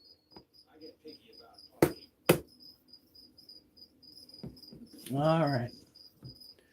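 Crickets chirp in a fast, faint repeating pulse that runs throughout, interrupted by two sharp knocks and a short spoken phrase near the end.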